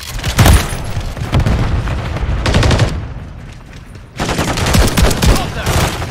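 Rapid bursts of automatic gunfire and shotgun blasts crackle loudly in a Modern Warfare 3 multiplayer match on the cramped Shipment map, with a short lull before the shooting resumes, mixed with in-game voice callouts.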